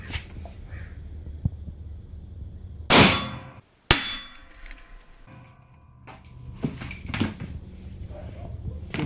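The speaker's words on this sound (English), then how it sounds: "full metal jacket rifle round, which is typical of what's being shot out of an AK-47 and terrorist weapons" A full metal jacket rifle round, the kind fired from an AK-47, strikes a hard surface with a single loud, sharp crack that cuts off abruptly, followed by quieter outdoor sounds.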